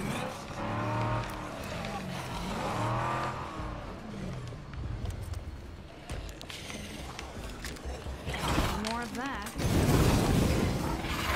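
Car driving in the zombie survival video game State of Decay 2, its engine revving and whining with pitch sweeps and a rough rumble, under a steady stream of excited talk from players.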